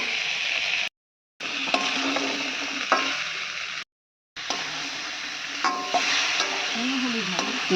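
Boiled radish, vegetable stems, potato and bitter gourd are stirred into a sizzling curry in a pan. A steady frying hiss runs under scraping spoon strokes and clinks, broken by two short silent gaps.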